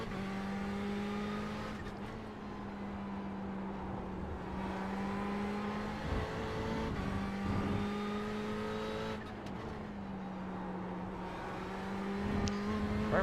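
Ferrari 488 GTE race car driven around Monza in a racing game, its engine droning steadily with gear shifts and repeated rises and dips in pitch, loud and sustained throughout.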